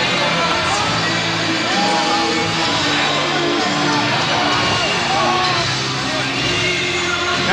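Danish ice hockey championship final, 1999: a large arena crowd roars and cheers continuously with yells and whoops as Rødovre players celebrate, a dense sustained wall of noise throughout.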